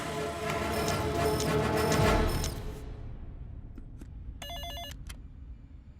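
A telephone rings on an outgoing call, with loud repeated electronic ring bursts that fade out, followed by a brief quieter ring pattern.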